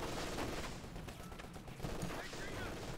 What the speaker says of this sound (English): incendiary rounds popped. Mortar rounds falling.